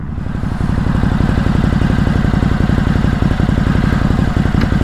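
A Ducati Hypermotard motorcycle engine runs loud and close throughout, a steady rapid mechanical pulsing with rattly clatter, as if heard from the bike while riding, with no voices.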